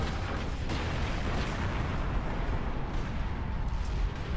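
Heavy turret cannon fire in the sci-fi game Space Marine, pounding onto an enemy ship as a dense, continuous barrage of booming shots and rumbling impacts with no gaps.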